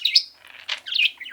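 A pet budgie chirps in quick, bright, close-up tweets, with a short warbling run of several notes and no talking.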